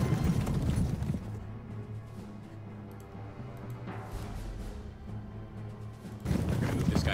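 Cavalry horses charging in the Pike and Shot video game, a rolling clatter of many hooves at a steady gallop, moderately faint under a low ambient rumble, with louder bursts at the start and end.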